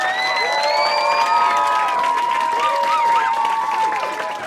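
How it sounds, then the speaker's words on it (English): A crowd of scouts and guests cheers and applauds loudly and continuously for the ARISS team at an ISS radio contact event, with whoops and shouts rising over the clapping. "Can we have a really big cheer for the ARISS team"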